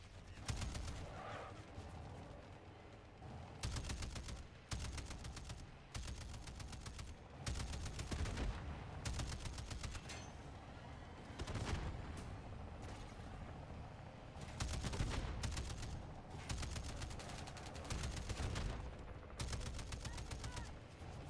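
Repeated bursts of automatic gunfire in MW3 Zombies, short loud volleys separated by brief pauses, recurring steadily over about twenty seconds with a faint bird call early on.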